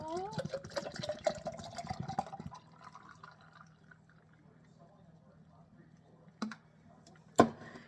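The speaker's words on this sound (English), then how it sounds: "So, get my fancy glass. We are going to pour." Coffee mixed with creamer is poured into a glass at home; a voice talks at first, then a soft, steady pour runs quietly for several seconds, ending with two sharp clinks of the glass.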